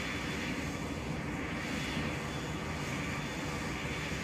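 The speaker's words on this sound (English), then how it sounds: "The engine sounds are so much realistic than the previous version." Steady, droning aircraft engine from the Pilot Training Flight Simulator video game, a continuous broadband roar with a faint high whine, even and unbroken throughout, fairly quiet and with no voices.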